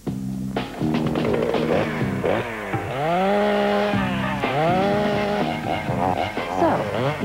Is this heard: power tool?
yes